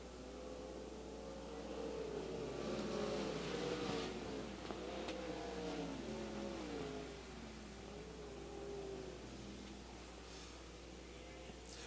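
Winged ASCS sprint cars race a main event at Central Arizona Speedway, their engines droning and wailing continuously, pitch rising and falling as the cars sweep around the track at middling distance, with no voices over the roar.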